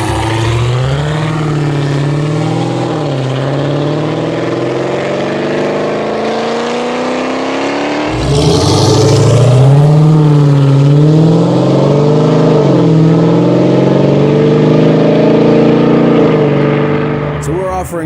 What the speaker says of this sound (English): Our Legend Series exhaust is designed to create that signature growl, increase volume over stock, yet maintain a comfortable cabin area